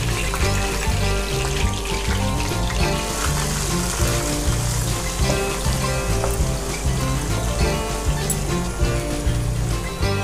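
Cumin seeds and finely cut onions frying in oil in a pan, a loud, steady crackling sizzle that holds without pause throughout.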